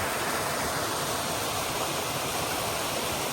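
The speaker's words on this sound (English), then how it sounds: "Got two little waterfalls left and right." Two small waterfalls on Haggis Brook in the wet Maine wilderness, a steady, dense rush of falling water heard up close and filling the whole scene without a break.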